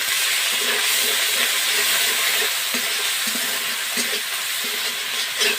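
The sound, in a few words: onion and ginger paste frying for hilsa biryani gravy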